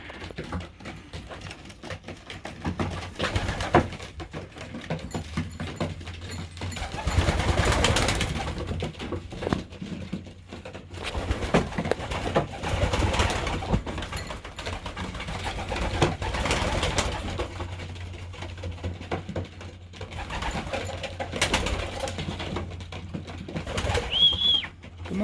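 Pigeons in a loft cooing and murmuring over fresh grit, a steady flock chatter with occasional wing flaps and shuffling, close and continuous throughout.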